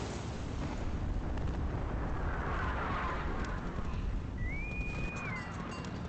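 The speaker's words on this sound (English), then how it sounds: "Now they're bombing me again." Rumbling bombing explosions in the video game Hearts of Iron 3, a sustained low booming wash with scattered bursts and a brief whistling tone near the end.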